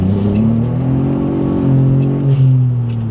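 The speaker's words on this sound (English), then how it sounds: "we've got no traction control, which means wheel spin, hooliganism, fun" A VW Up GTI with traction control switched off spins its wheels, its engine droning and revving steadily with a rising and falling pitch, loud and close, and no voices over it.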